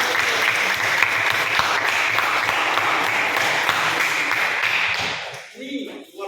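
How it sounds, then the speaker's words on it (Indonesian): Classroom of students clapping together after a correct math answer, a dense sustained round of applause for about five seconds that then fades out, with some speech-like voices mixed in. "Oke, tepuk tangan."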